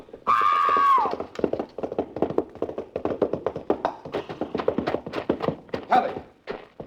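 A racing horse whinnies, then rapid hoof clip-clops pound along in a quick irregular rhythm as it stumbles over a low bar and throws its rider, close and fairly loud, with a brief cry near the end.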